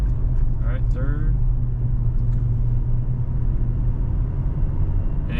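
A Toyota Tacoma pickup with a manual gearbox pulling in third gear, a steady low engine drone and road rumble heard from inside the cab, with brief faint sounds near the start and end.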